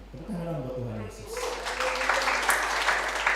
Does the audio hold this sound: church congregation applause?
yes